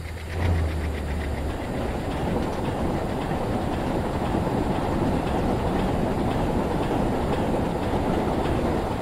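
Train running at about 97 km/h in a train simulator game, a continuous loud rumble with rapid rhythmic clickety-clack of wheels over rail joints, steady throughout with no talk.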